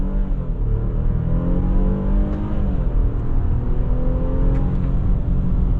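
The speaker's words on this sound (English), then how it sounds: "And that's the acceleration." Cabin sound of a 2022 Infiniti QX60 with a naturally aspirated 3.5-liter V6 and 9-speed automatic accelerating from a brake-torque launch, a steady low engine drone rising in pitch and then shifting, with no talking.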